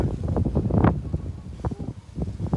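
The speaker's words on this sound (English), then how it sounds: "Yeah, the wind shifted." Gusty wind buffets a microphone outdoors during a live TV broadcast, producing loud, uneven low rumbling bursts that swell and drop throughout, strongest near the middle.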